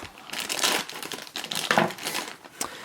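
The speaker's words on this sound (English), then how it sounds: "let me just use my scissors and just speed this up infinitely" Crinkling and crunching of plastic packaging being cut with scissors, sharp snips and rustles, close by, in irregular bursts without speech.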